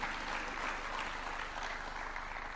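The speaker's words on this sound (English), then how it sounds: "Another clap for him," Audience applause at a State House event, a brief, dense burst of many hands clapping, fairly even in loudness across its short length.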